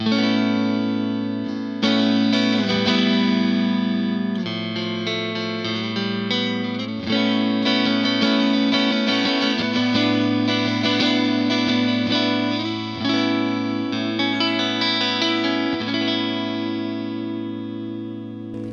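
A Harley Benton ST-Modern Carlos Asensio Signature electric guitar played with heavy effects, sustained distorted chords ringing with chorus and reverb, loud and continuous throughout.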